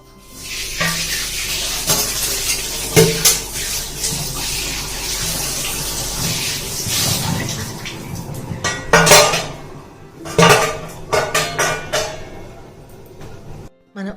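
Utensils clink and a metal pot lid clatters against the pan while palmyra fruit (ice apple) curry cooks on a kitchen stove, with running water in the background and a series of sharp metallic knocks near the end; no voices are heard.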